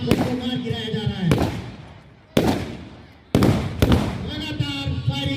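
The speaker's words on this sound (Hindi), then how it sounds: "लगातार फायरिंग चलते हुए" Gunfire during a Republic Day security drill at Reliance Jamnagar: three sharp, loud blasts about a second apart, each ringing out and decaying, heard over a voice that continues between them.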